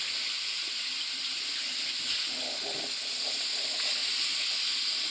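Half a kilo of washed chicken hits hot fried masala in a pan, giving a steady loud sizzling hiss with occasional light spatter and no talk.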